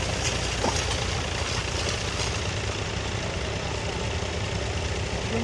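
A tractor engine runs steadily through the whole stretch while ploughing a field, a dense, continuous low rumble at constant loudness with no pauses or changes in pace.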